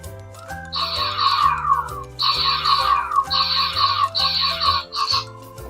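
Electronic sound effects from a Kamen Rider Faiz DX Faiz Gear toy belt in burst mode play in repeated bursts over a looping synthesized beat, four quick bright blasts followed by a short final one.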